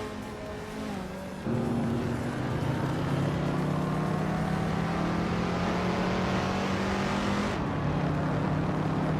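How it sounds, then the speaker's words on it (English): A 1962 Ferrari 250 GTO and other race cars roar through a video game race, a loud steady engine drone that steps up in pitch early on and holds as the cars run together. "Maya is leading the race in a 1962 Ferrari 250 GTO"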